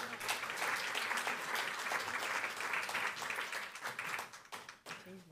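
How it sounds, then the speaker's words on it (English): Church congregation applauding steadily for about five seconds, a dense, even patter of many hands that thins and fades near the end. "But give our youth a round of applause."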